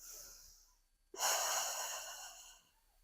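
A deep, broad inhale-exhale breath taken while holding a lifted-legs core pose in a yoga workout, starting abruptly after a brief hush, close and fairly loud, then slowly fading over about two seconds.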